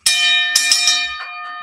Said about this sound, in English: Let me give you that gong for the support